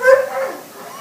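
A dog in a shelter kennel gives one short, high whimpering yip that fades quickly, close and fairly loud, with no one talking.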